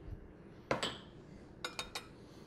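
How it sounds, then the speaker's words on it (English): Spoon clinking against a bowl while mayonnaise and sour cream are mixed together for a grape tomato and broccoli salad dressing, two quick clinks followed by three lighter taps, close and otherwise quiet. "We have equal parts mayonnaise and sour cream. We're just going to give these a quick mix."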